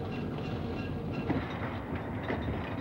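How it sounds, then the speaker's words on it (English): Freight train cars rolling along rails, a steady rumbling clatter with faint clickety-clack, continuous and fairly close with no voices over it. "Imagine a freight train being assembled one box car at a time."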